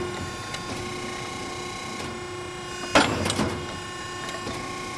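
A Piranha P-65 ironworker punches a hole in steel: one sharp, loud clunk and crunch rising briefly over a steady machine hum, followed by a short rattle as it settles, heard close up with no talk.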